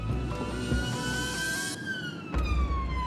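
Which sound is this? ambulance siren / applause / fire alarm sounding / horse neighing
ambulance siren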